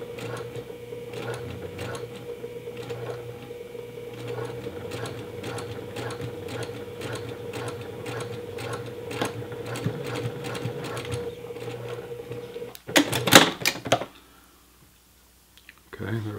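A sewing machine runs steadily along a T-shirt seam with rapid needle clicking for most of the stretch, then a few sharper clacks before it stops.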